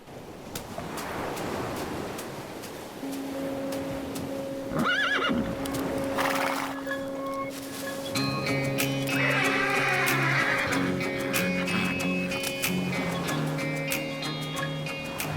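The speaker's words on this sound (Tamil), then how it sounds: "நீங்க சூப்பரா குதிரை ஓட்டுறீங்க" Horse whinnies and neighs loudly while hooves clip-clop steadily, with tonal music running underneath partway through.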